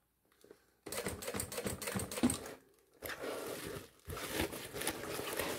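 A sewing machine stitches a synthetic thermal bag with bias binding in steady rapid runs, close and fairly quiet, pausing briefly between bursts of needle clatter.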